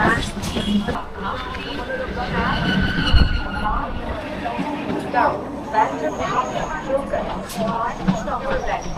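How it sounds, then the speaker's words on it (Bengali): A moving local train on the Howrah to Sheoraphuli line, with rain falling outside, gives a continuous rumble and rattle of carriages beneath a voice talking close by. "আমি এখন রয়েছি ট্রেনে আর এই হচ্ছে ট্রেনটা দেখতে পাচ্ছ লোকাল ট্রেন"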